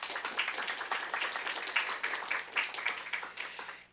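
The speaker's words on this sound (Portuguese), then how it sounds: "uma salva de palmas para a Nayeli" An audience at a technical lecture on computing systems for autonomous vehicles claps to welcome the speaker. The applause is steady and moderately loud, a dense patter of many hands lasting about four seconds.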